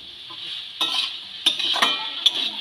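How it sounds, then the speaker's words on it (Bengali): Vegetables for spring roll filling stirred in a pan with a little salt and no oil, giving a steady close sizzle broken by several scraping strokes of a utensil against the pan. "এবার নেড়ে চেড়ে নেব।"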